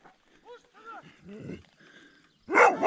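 A dog barks and yelps close by at a cyclist on the road, a few sharp calls followed by a loud burst near the end, mixed with a voice.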